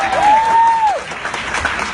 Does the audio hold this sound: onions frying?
no